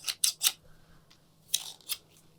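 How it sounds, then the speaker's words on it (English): Sharp scissors snip through a bundle of yarn wrapped around a fork for a crochet baby hat: three quick close cuts, a pause, then two more crisp snips. "I'm going to snip here"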